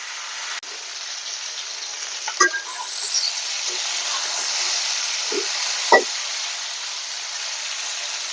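Brinjal pieces fry in hot oil in a home kitchen, a steady close sizzle with a few light clicks and scrapes from a utensil.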